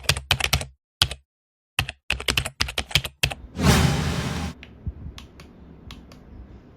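Quick bursts of clacky keystrokes on a Zifriend ZA68 Pro hot-swappable mechanical keyboard, close and crisp with short pauses between runs, then a longer rustling scrape before a few scattered final taps.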